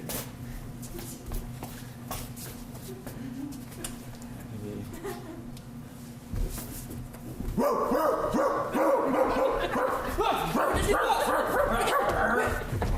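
A person imitating a dog at an improv cabaret gives yips, whimpers and barks, first under people talking, then louder and more insistent in the second half.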